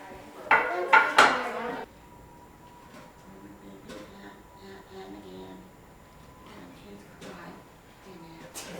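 Plates and forks clatter as food is dished up, a few loud close clanks of crockery and cutlery at the start followed by softer scraping and clinks while people talk quietly.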